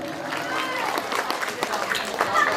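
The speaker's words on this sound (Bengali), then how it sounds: "একবার জোরে হাততালি" A crowd claps and cheers in a steady burst of applause at a golden jubilee festival, with voices mixed in throughout.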